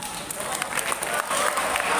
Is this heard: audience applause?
yes